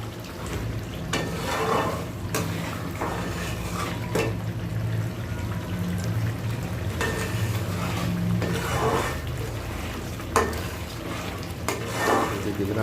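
Masala fish curry being stirred in a pot, a low bubbling simmer under repeated scrapes and knocks of a spoon against the pan, close and steady for several seconds.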